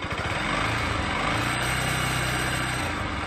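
A 2024 Pulsar 200NS motorcycle runs steadily nearby with a loud, buzzy engine drone that holds an odd, persistent noise throughout, with no voices.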